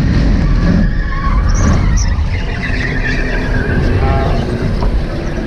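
BMW E39 V8 drifting on a training course, its engine roaring loudly and continuously while the tyres skid and squeal in bursts, with voices talking over it throughout.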